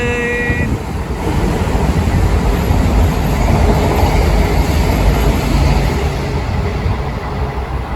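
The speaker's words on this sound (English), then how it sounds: "Train!" A train rumbles loudly and steadily across a railway bridge over a canal, a close, sustained roar of wheels and carriages with a brief whistle-like tone at the start.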